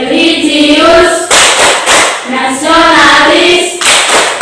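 Group of students doing the tepuk PPK clapping routine in an Indonesian classroom, loud patterned claps in short bursts, with voices chanting along between them.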